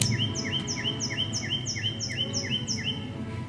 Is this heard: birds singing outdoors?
yes